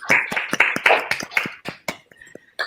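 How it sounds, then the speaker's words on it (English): Dense, rapid clapping from a crowd fills the first half, then thins out into a few scattered claps with a brief voice near the end. "Let's give everyone a big last round of applause."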